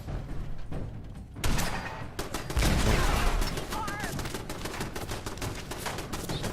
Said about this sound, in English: What else is shooting? Some sort of turret.